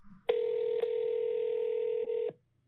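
A telephone dialing tone sounds while a call is being placed: one steady electronic tone holds for about two seconds with a few faint clicks, then cuts off into silence.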